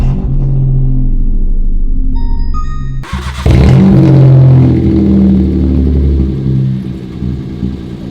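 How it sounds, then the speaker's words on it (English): A Citroen C1 with a straight-piped, hanging exhaust, heard first as a close cranking starter and then catching into a loud, raw, rumbling idle that blares right after ignition and settles into a steady growl. "we're gonna give it a start now while it's like straight piped"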